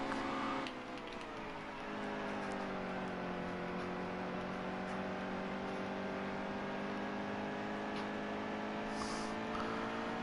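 Stock car engine in NASCAR Heat 2 racing at Phoenix, a sustained droning whine with layered harmonics that dips slightly and then climbs steadily, loud and close, with no talking.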